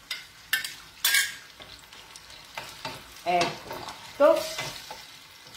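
Tomato dropped into a hot pan while cooking a sauce for green gnocchi, followed by loud sizzling and frying with scraping spoon stirs in bursts, close up.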